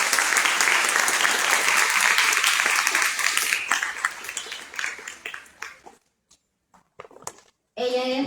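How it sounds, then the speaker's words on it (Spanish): An audience at a conference applauding, dense clapping that thins out and fades to near silence before a voice resumes at the end. "Un aplauso, por favor"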